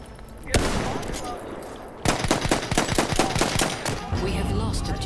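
Battlefield 1 gunfire: a sharp shot is followed by rapid bursts of automatic fire, loud and close, with speech mixed in.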